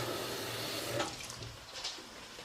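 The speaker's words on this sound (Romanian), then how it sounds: "Și putem lua apa să o punem. În cazul meu 7 pahare de apă. De la robinet, nu caldă" Cold tap water poured from a faucet into a pot for chicken and mushroom rice pilaf, a continuous close splashing rush that shifts in tone as the pot fills.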